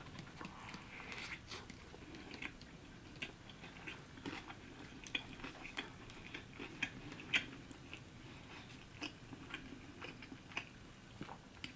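Close, quiet chewing of a McDonald's Quarter Pounder with Cheese with pickles, soft wet bites and clicks recurring irregularly over a low room hush, with no talking.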